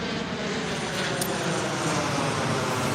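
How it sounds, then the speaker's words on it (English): A distant airplane passes overhead outdoors in the evening, a soft, steady broadband engine rumble that holds evenly for the whole stretch, with no voices. "and there's an airplane."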